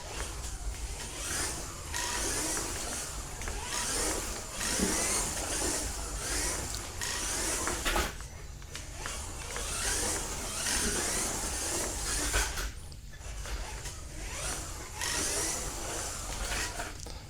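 A Kyosho Mini-Z Honda NSX ARTA Super GT RC car drives laps, its small motor giving a buzzy whir that swells and fades in repeated bursts with short pauses, loud and close throughout.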